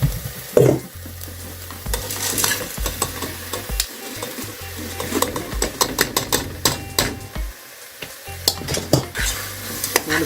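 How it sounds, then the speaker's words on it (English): Dry lentils tumble into a pot of beef soup, followed by stirring and scraping of a utensil against the pot over a gentle sizzle, with brief clatters and a steady low hum running underneath. "Now it's time to add our lentils."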